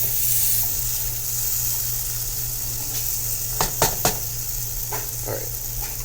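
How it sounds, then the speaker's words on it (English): Vegetarian taco meat made with peanut butter sizzles in a pan, a steady close hiss broken by a few sharp crackles and spatters partway through. "I'm burning some of that peanut butter onto the pan"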